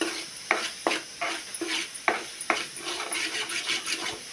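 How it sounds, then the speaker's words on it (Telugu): Fish curry with chilli powder, tamarind and lime juice is stirred in a pan, a spoon scraping and clinking in several quick strokes over a steady sizzle, close and moderately quiet. "అది మాడకుండా బాగా తిప్పేసేయాలి ఫ్రెండ్స్"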